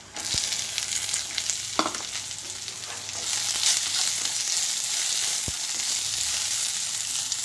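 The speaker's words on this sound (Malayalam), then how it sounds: "ഇനി നമുക്ക് അതിലേക്ക് അരിഞ്ഞ ഉള്ളി ഇട്ട് കൊടുക്കാം." Chopped onions fry in a pan of spiced oil for tomato chutney, giving a steady broadband sizzle with a few light stirring clinks and scrapes throughout.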